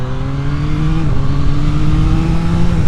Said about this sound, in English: this of course has got the excellent Yamaha CP3 triple engine in it, 890cc, and it is an absolute beast